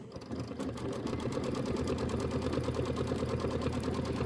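A sewing machine stitches fabric in a steady, fast, continuous run, close and moderately loud, with no talk over it, while sewing down a quilt block background.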